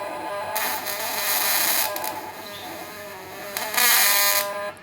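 A modified MOSFET-powered platinum fish stunner buzzes with a harsh electrical hum, broken by bursts of crackling arcing that flare up and fade, close and fairly loud.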